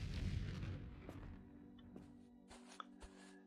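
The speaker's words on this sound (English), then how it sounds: "Explosion noise." Explosives detonate in the game Foundry, starting with a deep rumbling boom that fades, then a few smaller thuds and pops follow over a quiet background.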